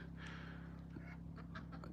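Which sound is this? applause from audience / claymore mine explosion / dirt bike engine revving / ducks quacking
ducks quacking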